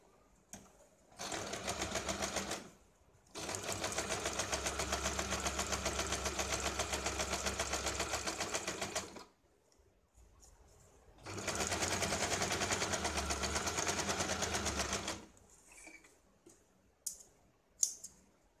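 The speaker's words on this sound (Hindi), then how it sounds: "अब इसके ऊपर हमें यहाँ राउंड शेप में सिलाई लगानी है। यहाँ पे हम सिलाई लगाते हैं।" Sewing machine stitching a round shape onto blouse fabric backed with canvas paper, running in two long steady bursts of rapid, even stitching with short pauses between, close and loud, no talking.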